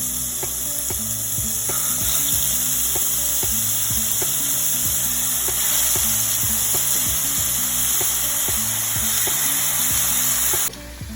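Turkey burgers frying in olive oil in a hot pan, a bright constant sizzle over a steady rhythmic ticking, loud and close throughout.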